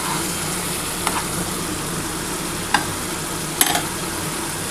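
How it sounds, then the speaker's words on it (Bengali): Spice paste for tangra fish curry fries in oil with a steady, soft sizzle, and a few brief clinks or stirs punctuate it. The sound is close and there is no talk. "আমার মশলাটা খুব ভালোভাবে কষানো কমপ্লিট"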